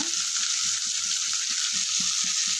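Small shallots fry in oil for a chutney, a loud, steady hiss of sizzling with faint, soft stirring knocks underneath, close and unbroken, no talk.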